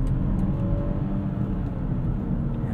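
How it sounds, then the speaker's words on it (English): A 2021 BMW X5 xDrive45e plug-in hybrid's inline-six engine starts and hums low and steady, a smooth six-cylinder drone rising slightly under throttle with no talk over it. "You give it a little bit more throttle, you can hear the engine come on."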